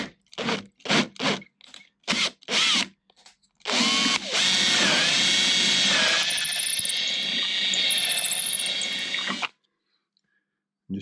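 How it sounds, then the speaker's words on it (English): Several short bursts of a drill spinning up, then one long continuous whine as it bores through material before stopping abruptly into silence. "I'm only going up very slightly in drill sizes."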